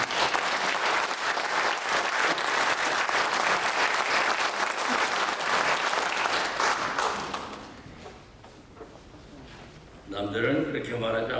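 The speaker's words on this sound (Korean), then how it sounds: "일단 박수 한번 하겠습니다." An audience at a breakfast worship service breaks into loud, sustained applause that fades after several seconds, then a voice speaks over the quieter room.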